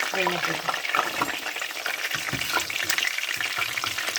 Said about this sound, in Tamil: சிக்கனில் நல்லா பார்த்தீங்கன்னா சிக்கன் வந்து சூப்பராக பொரிஞ்சிருச்சு